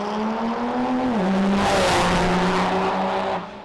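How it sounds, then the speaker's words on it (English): A diesel drag racing truck, number 8136 with a single exhaust stack, launches down the drag strip at a night qualifying event, its loud engine roaring steadily with a pitch that dips then holds for several seconds before cutting off. "Truck 8136, single stack out the back. Boiling up, spooling up,"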